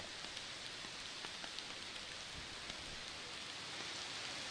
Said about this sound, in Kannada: ರಾತ್ರಿ ಸುರಿದಂಥ ಮಳೆ ನಿರಂತರವಾಗಿ ಸುರಿತಾ ಇದೆ